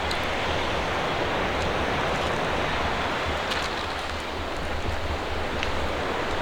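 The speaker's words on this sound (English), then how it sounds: "And behind me is the waterfall" Rushing water of Panimur waterfall in Assam, a steady dense roar filling the whole stretch without pause.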